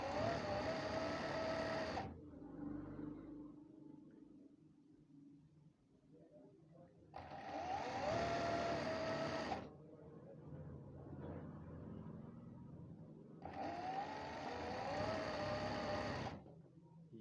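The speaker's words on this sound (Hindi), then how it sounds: "इसको भी मैं इसी तरह से सिलाई लगाऊंगा पहले" An electric sewing machine stitches trouser fabric in three loud bursts of rapid mechanical whirring. Quieter stretches fall between the bursts while someone talks in Hindi.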